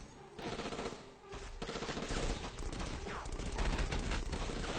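Video game machine gunners firing, dense rapid bursts of automatic gunfire that rattle almost without pause, loud and close, with layered shots and impacts.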